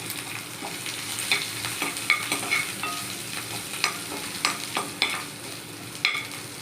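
Hot oil sizzles loudly as curry leaves and then garlic crackle and pop in a tempering, sharp spattering bursts coming every half second or so over a continuous close hiss.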